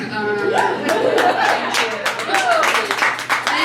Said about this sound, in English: We're clapping for mood disorders in the corner there